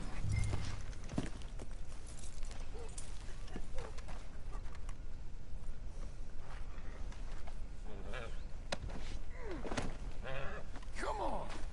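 Horse hooves clip-clop in the video game Red Dead Redemption 2, a steady walking rhythm of close hoof strikes over game ambience with occasional bird calls and voices.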